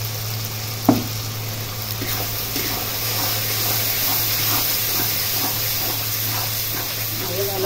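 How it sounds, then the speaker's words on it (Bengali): Spiced potato and paneer curry sautéing in a pan with turmeric and salt, a steady broadband sizzle and frying hiss with occasional stirring clinks and one sharp knock early on. "ভালো করে কষাই নেব।"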